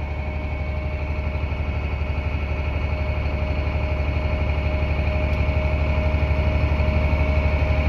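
A farm vehicle's engine idles with a steady low rumble and vibration while grain unloads through an auger into a grain bin; the sound is continuous, loud and even throughout.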